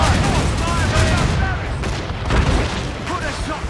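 Ship cannon fire in a naval battle in Assassin's Creed Rogue, with heavy booms and gunfire rolling continuously amid wind and sea noise, with crew voices shouting over the din.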